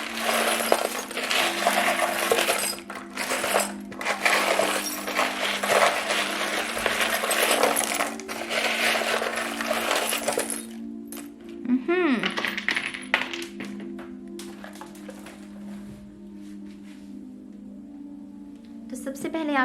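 Small metal charms shuffled together for a tarot-style reading give off repeated jingling clinks through the first half, then fewer and lighter clinks, with a voice heard in the background.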